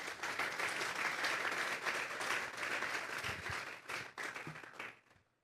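A church congregation breaks into loud, sustained applause that carries on steadily for several seconds, then fades away quickly at the end.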